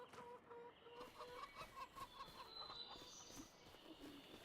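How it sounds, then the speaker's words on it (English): A flock of about 75 chickens in a coop in Farming Simulator 25, clucking continuously in a busy, overlapping chorus of short calls, moderately close and fairly quiet, with no talking over it. "There's 75 chickens in here."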